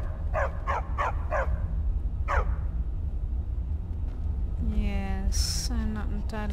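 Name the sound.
dog barking in the video game Skyrim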